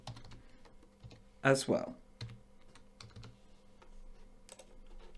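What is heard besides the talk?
typing on a computer keyboard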